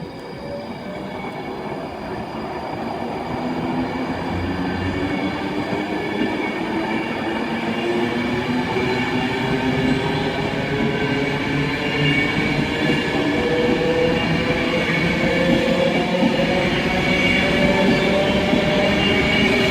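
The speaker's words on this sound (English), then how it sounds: "390 134 is ready to depart with the 1336 Virgin Train service to Manchester Piccadilly" A Virgin Trains electric passenger train departs Stockport station, its motor whine rising steadily in pitch over rumbling wheels and rail noise, growing gradually louder with no voices.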